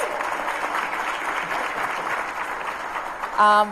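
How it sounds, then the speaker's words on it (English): A crowd applauds at a Hispanic Chamber of Commerce event, a steady, moderately loud wash of clapping that holds evenly, with a brief tonal burst at the very end. "Give them a big round of applause."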